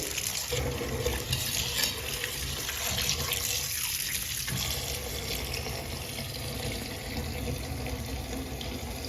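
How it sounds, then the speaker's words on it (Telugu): Running tap water splashes steadily over fresh garden spinach leaves being rinsed in a sink, a continuous close hiss of water with slight shifts as the leaves are moved, no talking. "పాలకూరని శుభ్రంగా కడుగుదాము రెండు మూడు సార్లు కడగాలండి పాలకూరని"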